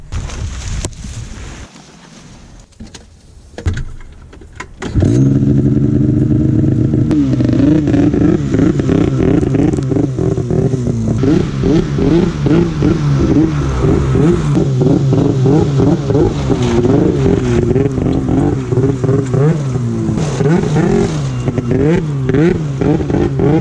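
A 2014 Arctic Cat M8000 snowmobile engine fires up after quiet handling noises, then settles into a loud, close, throbbing idle broken by repeated blips of the throttle that rise and fall.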